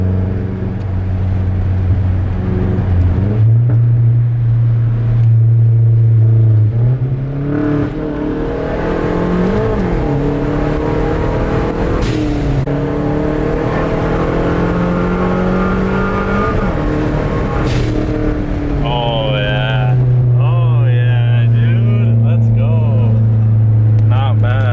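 A slammed Mazdaspeed 3 with boost gauge driven on the road, its engine humming steadily from inside the cabin and climbing through revs in rising sweeps, with shifts between gears and a brief whine near the end.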